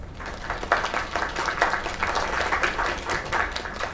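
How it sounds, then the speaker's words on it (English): An audience claps after a singing performance, a lively burst of applause with uneven swells and individual claps standing out, fairly close and unbroken for the full few seconds. "Another round of applause."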